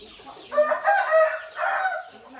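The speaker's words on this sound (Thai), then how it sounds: "คลิปนี้ได้ยินเสียง ไก่ทั้งคลิป" A rooster crows once in a long, drawn-out call near the microphone, with soft chicken clucking around it and no voices.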